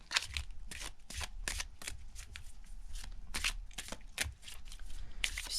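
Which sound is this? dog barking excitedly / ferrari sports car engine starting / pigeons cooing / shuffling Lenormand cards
shuffling Lenormand cards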